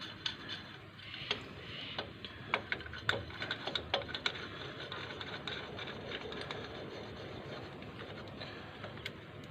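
A G-clamp being tightened to press a rear brake caliper piston back in on a Land Rover disc conversion: faint ratcheting clicks and metallic ticks over a steady background hiss, with brief sharper snaps in the middle.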